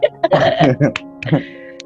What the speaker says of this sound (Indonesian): Baru mulai udah batuk loh